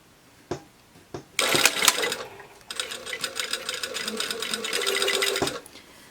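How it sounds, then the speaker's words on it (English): A sewing machine stitches a seam allowance to a bodice lining, starting with a couple of clicks, then running in a short burst, pausing briefly and running again in a longer steady whir up close. "I'm stitching the seam allowance underneath to the lining."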